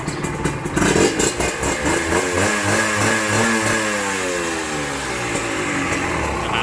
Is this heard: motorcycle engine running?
yes